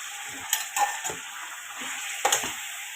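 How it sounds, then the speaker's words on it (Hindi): Mutton pieces frying in a pan for pulao, soft sizzling broken by a few scraping stirs and light clinks against the pan, moderately close and without talk. "हमने सारा मटन इसके अंदर डाल दिया। अब इसको हमने अच्छी तरह फ्राई करना है।"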